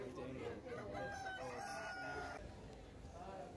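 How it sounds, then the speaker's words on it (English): Chickens at a busy central market in Arusha, Tanzania, with a rooster crowing once amid steady crowd noise and background chatter. "Good job holding the chickens there, Becky."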